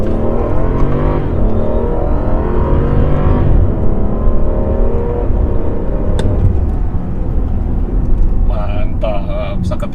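A BMW X5 F15 35i accelerates hard from first gear in Sport Plus mode, a loud, close engine roar rising steadily in pitch, with a gear shift near the end and a brief beep.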